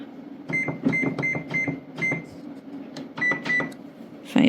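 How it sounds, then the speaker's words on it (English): A kitchen microwave oven sounds a quick run of electronic button beeps as it is set to 600 watts for five minutes twenty seconds and started, the short tones coming in uneven bursts close by, with a final louder beep at the end. "think I'll do the 600 watts at 5 minutes and 20 seconds."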